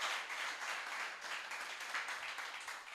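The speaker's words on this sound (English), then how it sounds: "Can we give that a round of applause" An audience claps at an export summit, a steady wash of many hands that is fairly faint and even throughout, with no voices over it.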